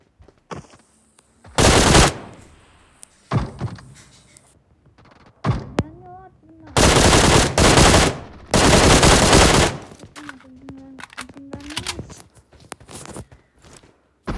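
Gunfire in the video game PUBG arrives as several loud, close bursts of rapid automatic fire, some long sustained sprays and shorter volleys, separated by quieter gaps with footsteps, thuds and someone talking between shots.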